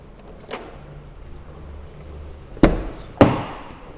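Rear side-hinged door of a Land Rover Defender 110 P300 being worked: a soft click early on, then two loud sharp thuds of the latch and heavy door a little over half a second apart, close by.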